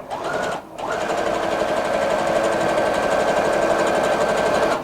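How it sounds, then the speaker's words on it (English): A Brother NV950 sewing machine stitches a seam in a fast, even mechanical whir that pauses briefly and then runs steadily again, close and loud with no talking over it. "as I sew, notice that I am not pushing the fabric, I'm just guiding it"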